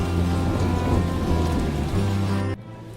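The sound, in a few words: rain starting again in a cartoon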